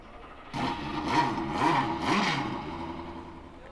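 A Porsche RS Spider race car engine on a museum display fires up with a sharp start, then blips through three rising and falling revs before settling into a rumbling idle, close and loud.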